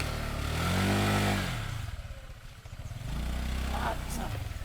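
A motorcycle engine runs close by, its low rumble rising and falling as it revs, with voices mixed in over the noise.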